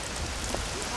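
Steady rain patters over a rooftop garden under construction, a soft, even wash of drops filling the whole second without pause.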